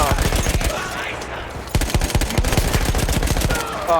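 Game machine gun fire from Battlefield, a loud, dense run of rapid gunshots in bursts that pause briefly near the middle, then resume with steady rhythmic shots to the end.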